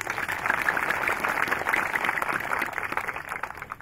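An audience claps at a ceremony for the restoration of a royal tomb in Nagari Kumanis, producing a dense, even burst of applause that holds steady for a few seconds.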